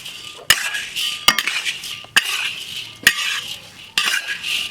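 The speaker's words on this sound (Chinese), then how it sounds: "瓜子仁往熟炒一下。" A metal spatula stir-fries shelled sunflower seed kernels in a hot pan, giving close, rhythmic scraping strokes broken by several sharp clanks against the metal, with a faint sizzle underneath and no talk.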